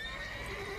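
Horse in The Witcher 3 giving a brief, close whinny over a steady ambient bed, with faint hoof clatter mixed in.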